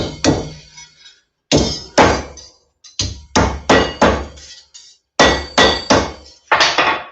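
Brass light bulb sockets are hammered flat, giving loud, close metallic whacks in quick bursts of two to four blows separated by short pauses, with no talking.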